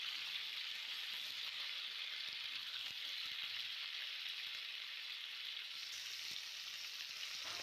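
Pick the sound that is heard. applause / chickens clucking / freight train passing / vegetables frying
vegetables frying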